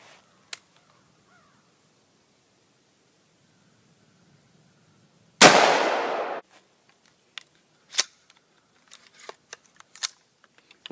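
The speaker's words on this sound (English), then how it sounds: "And let's shoot it and see what happens." A single loud gunshot fired at a backpack from 21 feet cracks out mid-clip and rings off for about a second, followed by scattered faint clicks and handling noises.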